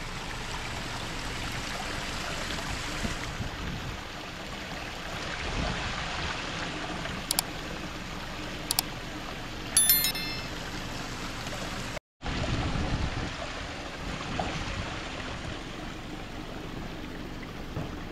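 Steady splashing and rushing water from a park water fountain on San Fernando Hill, a continuous near wash of spray with a few brief faint tones above it.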